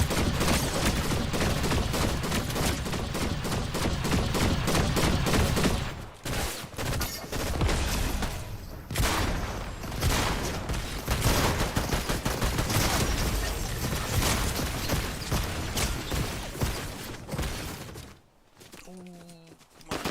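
Rapid gunfire bursts from a video game shooter, loud and nearly continuous, with repeated volleys and brief pauses, under excited talk from a player.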